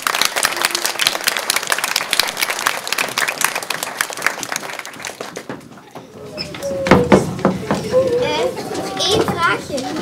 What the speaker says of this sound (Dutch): Een applaus voor Kim en Kira.